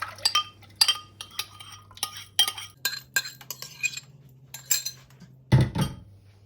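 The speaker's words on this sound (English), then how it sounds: "Take a saucepan and pour all the mixture into the pan." Light clinks of metal and dishware as a tamarind and rhubarb mixture is poured into a saucepan, a scattered run of quiet, close taps and knocks with a single thicker thud near the end.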